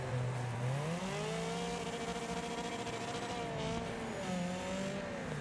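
A car engine struggles in the racing video game Wreckfest, droning and wavering in pitch at a steady loud level, with tire squeal mixed into the continuous game audio.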